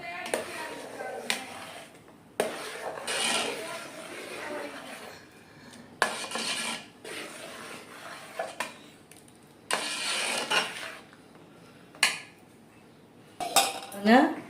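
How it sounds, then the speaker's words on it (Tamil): Spoon stirring coconut milk with rice dumplings in a pot, with repeated metallic scrapes and clinks against the pot in irregular bursts, close and moderately loud, and a soft background hum between strokes. "இந்த தேங்காய் பால் கொழுக்கட்டை, பால் கொழுக்கட்டை போட்டு இதோடு சேர்த்து கிண்டிக்கணும்"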